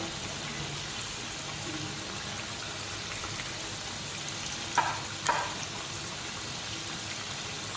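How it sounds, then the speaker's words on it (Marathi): Onion bhaji fritters frying on low heat in oil, a soft, even hiss throughout with a couple of brief louder crackles near the end, faint and without voices. "आपण या दोन्ही साईडने छान भाजून घेणार आहोत।"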